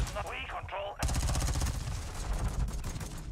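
Rapid pistol gunfire in the video game Black Ops 2, a close burst of sharp repeated shots following a brief voice, loud and steady.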